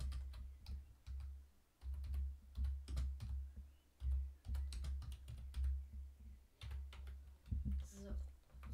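Quick bursts of clacking keys on a computer keyboard as a message is typed, close and uneven in rhythm, with short pauses between flurries.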